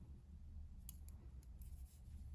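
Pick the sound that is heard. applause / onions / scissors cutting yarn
scissors cutting yarn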